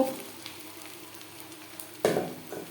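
Onion and green chilies frying in a pan, a soft continuous sizzle with a sharper clatter of stirring near the end, close and fairly quiet.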